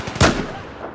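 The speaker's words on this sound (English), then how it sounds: "I'm firing!" Gunfire in the video game Battlefield 4, one loud, close, sharp report with a short, rumbling decay.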